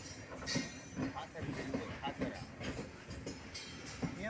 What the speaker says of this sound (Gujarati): 100 ડબ્બાની માલગાડી છે, 100 ડબ્બાની।